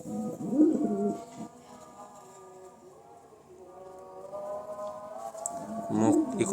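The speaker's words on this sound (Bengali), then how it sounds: "এত সব কবুতর এখন একটু রাগ বেশি হয়ে গেছে।" Pigeons in a breeding loft coo in low, soft, continuous murmurs, with louder rustles and flutters at the start and end.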